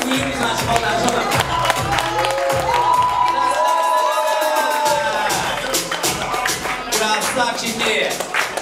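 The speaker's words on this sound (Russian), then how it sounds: "Ребята, аплодируйте сейчас так сильно, как вы любите нашего молодожёна." Wedding guests applauding and cheering for the newlyweds, a dense burst of clapping with shouts and whoops from the crowd, loud and close, with a host talking over the noise.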